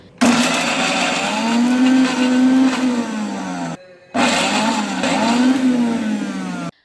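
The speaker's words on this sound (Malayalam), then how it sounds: "ഒരുമിച്ചെടുത്തിട്ട് മിക്സിയിലൊന്ന് അടിച്ചെടുക്കുക" An electric mixer grinder crushes orange peels in two loud, steady motor runs with a short pause between them, its whine dipping and rising as the load shifts.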